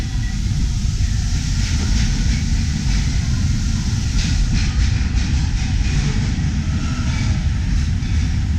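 Walt Disney World Railroad train rolling through Magic Kingdom toward Frontierland Station, a steady loud rumble with faint clickety-clack and hiss, continuous and close.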